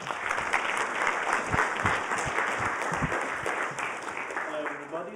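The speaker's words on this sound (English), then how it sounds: "Can we have a round of applause for him?" A lecture-hall audience applauds steadily at the start of a university computing course, dense clapping filling the room from start to finish with a few voices mixed in.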